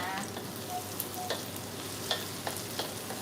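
Shallots stir-fried in a pan produce a soft continuous sizzle, with a few light scraping clicks from stirring scattered across the moment; no talk.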